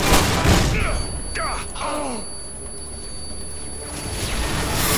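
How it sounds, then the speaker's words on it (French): A flash grenade goes off in Call of Duty: Modern Warfare 2 (2009): a broad burst, then a thin high ringing tone that hangs for several seconds under muffled voices, ending in another rush of noise. "Grenade flash."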